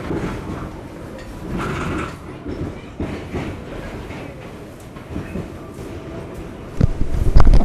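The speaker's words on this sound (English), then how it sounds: "We are arriving at Queensboro Plaza" W subway train arriving at Queensboro Plaza, heard from inside the car as a loud rumble with rattling and clatter that swells near the end.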